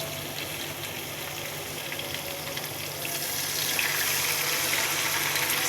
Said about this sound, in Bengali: এখন আমরা এখানে অল্প পরিমাণে পানি দেবো।